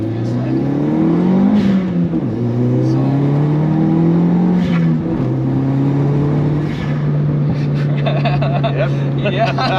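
Mitsubishi Colt Ralliart Version-R hatchback engine revving through rising and falling sweeps, then holding a steady drone, with scattered crackles near the end; loud and close from inside the car, voices talking over it.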